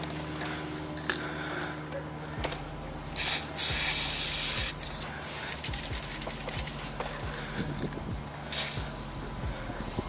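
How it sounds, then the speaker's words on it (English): WD-40 sprayed through a long straw onto a Mazdaspeed 3 high-pressure fuel pump during an install, a close hissing burst lasting about a second amid soft handling rustles over a steady background hum. "So I'm gonna go ahead and spray some WD-40."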